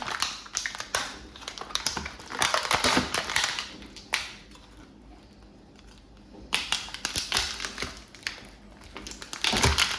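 Scissors or a knife crunching through a block of frozen mussel koi food to cut a corner off, a run of close, crackly taps and crunches in bursts with a quiet pause midway.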